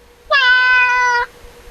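A cat in a children's story gives a single clear, drawn-out meow lasting about a second, close and alone with no talk around it.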